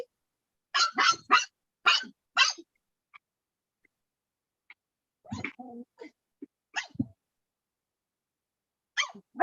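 A dog barks in short bursts during a home video call, several quick sharp barks in a row, then scattered yips and a final bark, moderately close with silence between.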